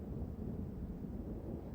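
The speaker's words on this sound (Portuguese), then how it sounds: "Mais barulho de chuva e trovões." A sound effect of rain and thunder played during a children's story, with a faint, steady low rumble and wash of rain without speech.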